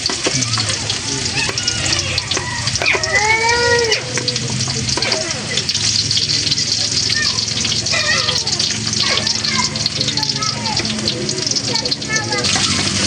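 Garlic and onion sauté in a hot pan with a loud, continuous sizzle and crackle, occasional stirring, and voices chattering in the background.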